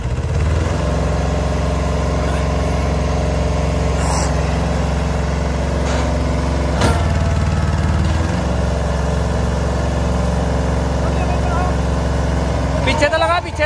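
A Mahindra Yuvo 475 tractor's heavy diesel engine rumbles steadily at close range in first gear, droning under strain pulling a trolley, with a few clanks and a louder revving burst near the end.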